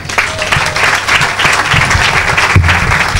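A church congregation at a charismatic French-speaking worship service breaks into loud, sustained applause, with dense clapping filling the room steadily throughout and faint voices mixed in.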